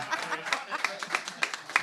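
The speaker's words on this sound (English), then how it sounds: "Applause for Nikki." A studio audience at a comedy game show applauds, a spread of claps with a few sharper peaks, and some voices murmur underneath it.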